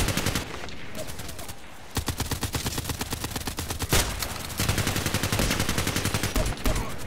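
Fully automatic fire from a Glock 18 pistol in a shooting game, rapid bursts of closely spaced, loud shots with brief pauses between strings.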